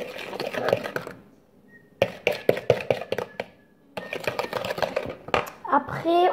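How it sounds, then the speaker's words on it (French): A utensil beats vanilla sugar into tiramisu cream in a bowl, giving quick rhythmic clicking strokes in bursts separated by short pauses, close and fairly loud, with a brief voice near the end. "on mélange, que ça soit bien mélangé"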